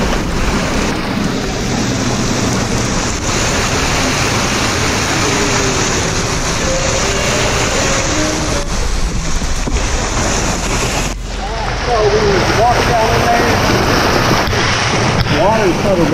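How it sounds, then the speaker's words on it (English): Water rushing steadily out of a drain trench during light rain, a continuous broad wash of flowing water close by with wind buffeting the microphone, and people talking briefly over it. "Water's kind of rushing out."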